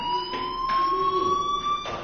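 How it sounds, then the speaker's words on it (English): Fire alarm ringing inside a school in the video game Life is Strange, a steady high electronic tone with pulsing harmonics sounding continuously and fairly loud, with no talking. "do you hear that fire alarm? That means you should be outside."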